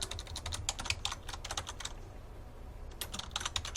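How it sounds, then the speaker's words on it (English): Typing on a computer keyboard while building a Word document: rapid, close key clicks in quick bursts, with a short lull midway before the tapping resumes. "as I'm typing all this"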